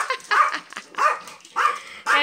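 A Yorkie barks excitedly while chasing bubbles, four sharp, close yaps in quick succession with short gaps between them.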